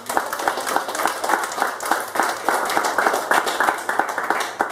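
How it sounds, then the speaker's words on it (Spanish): Church congregation applauding during an evening service, brisk, uneven clapping with distinct individual claps in a close room, rising and falling in loudness throughout. "Denle un aplauso a Jesucristo ahora mismo."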